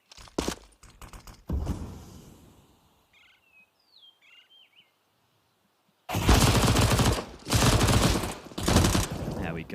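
SMG fire in Counter-Strike on the Inferno map, loud rapid bursts at the start and again later, with a quiet stretch between where faint bird chirps of map ambience come through.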